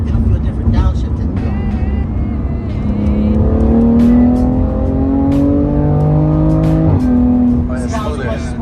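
A Nissan GT-R accelerates hard, its engine note rising steadily through the revs before a gear change around the seventh second, with occupants talking over the loud, close engine throughout.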